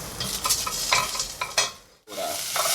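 Onion and garlic sautéing in a pan, with a steady bright sizzle and repeated stirring scrapes. The sizzle drops to near silence for a moment, then resumes loud and close.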